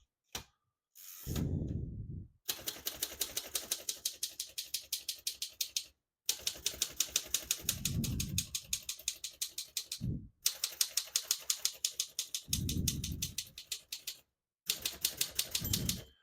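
Rapid mechanical clacking of a 1936 Royal Model O portable manual typewriter in steady bursts, with brief pauses, carriage ratchet sounds and occasional low thumps between runs.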